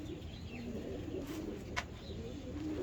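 Pigeons cooing softly at a distance during a pigeon-flying match, with faint low coos and a chirp over steady background noise.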